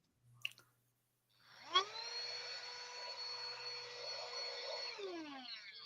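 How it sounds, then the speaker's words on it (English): A small handheld vacuum cleaner for clearing debris from a 3D printer starts up after a short knock, then whines steadily and close for several seconds with a bright high-pitched motor tone. "it is a vacuum."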